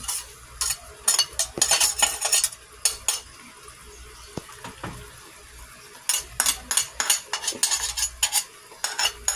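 Metal utensil scraping and clinking against a pan while bagoong alamang shrimp paste with sugar and vinegar is stirred, a run of quick rhythmic scrapes, a quiet pause, then another burst of stirring over a faint sizzle.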